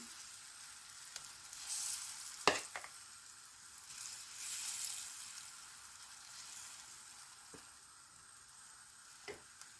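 Zucchini batter sizzles and crackles steadily in a hot pan, with a few brief scraping clicks of a spoon spreading it.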